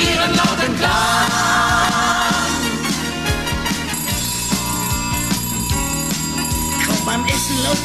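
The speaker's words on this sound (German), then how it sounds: "Hätt die Glocke nicht geläutet" A bell rings through a lively children's song about bells, its bright chiming tones blended into steady, full instrumental accompaniment with singing voices throughout.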